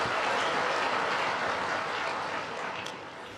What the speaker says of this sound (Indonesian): tepuk tangan untuk berita baik boleh